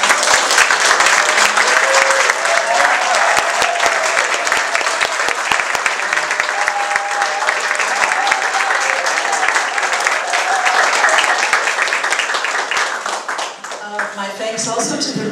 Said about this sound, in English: But I think I'd like all of us to applaud Sandra.